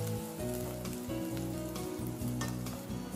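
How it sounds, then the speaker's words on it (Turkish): Onion and garlic fry in oil with a steady, close sizzle, under prominent background music. "Soğanla birlikte sarımsağı da pişirmeye devam ediyorum."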